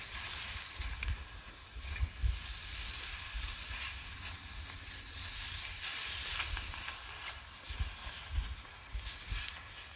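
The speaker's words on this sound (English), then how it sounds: "we're going to crisp up. I have bacon, kielbasa, and a little bit of onion" Bacon, kielbasa and a little onion sizzle in a VDV mess kit over a campfire, a steady close crackling hiss with occasional louder spits and pops, no talking.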